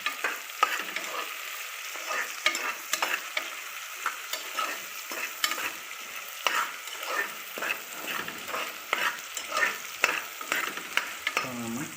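Sliced onions sauté with a little salt in a pan for homemade biryani, giving a steady mid-level sizzle broken by frequent scraping stirs of a spoon, rhythmic and close, with no voice present.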